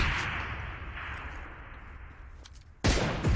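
Rocket launcher fire in PUBG Mobile: a fading rumble of explosions tails off, then a sudden loud blast bursts in near the end.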